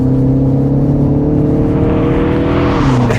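A 2024 MINI Cooper S (F66, JCW) engine pulls hard under acceleration on a wet road, a loud, steady drone with rising harmonic tones that dip near the end as the car shifts gear, heard from inside the cabin.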